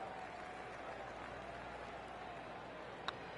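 Crowd applause in the golf video game PGA 2K3 after a birdie chance, a soft steady wash of distant clapping with a brief sharp click near the end.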